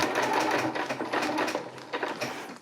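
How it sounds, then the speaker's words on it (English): Sewing machine stitching ultralight tarp fabric, running in a fast continuous mechanical whir with rapid needle taps, close and loud throughout with a slight slowdown near the end. "then I'll ride it right along this side of my zipper foot, or my sewing machine foot."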